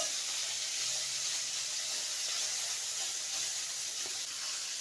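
Onions, ginger and garlic fry in hot oil with a steady, close hiss and sizzle, constant and fairly loud throughout without any speech.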